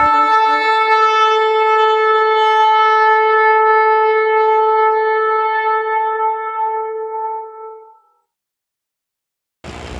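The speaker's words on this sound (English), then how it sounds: "This is the sound of a shofar." A shofar, the ram's horn used in Jewish religious ritual, sounds one long, steady, bright blast that slowly fades out, followed by silence and a brief burst of noise at the end.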